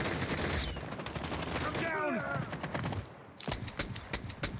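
Rapid bursts of automatic gunfire in Call of Duty Mobile, fast repeated shots in close-up sequences with a brief pause, mixed with game effects and a voice speaking underneath.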